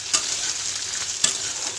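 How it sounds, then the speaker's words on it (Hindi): Onion and okra frying in oil in a pan for a home Indian lunch, a steady bright sizzle with two soft stirring scrapes, close and loud, no voices. "1 प्याज और भिंडी को ऐसे फ्राई की हूँ"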